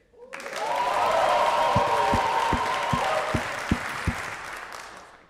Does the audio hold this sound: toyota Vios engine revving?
no